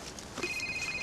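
A telephone ringing, a steady electronic tone that starts partway through, fairly quiet and heard alone in an indoor room.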